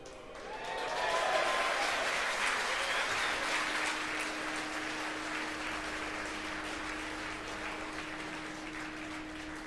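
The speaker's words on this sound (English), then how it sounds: "Again, the applause." Applause breaks out in the SpaceX mission control room as the Falcon 9 fairing separates, a dense swell of clapping that rises quickly and holds steady, with a faint constant tone running underneath.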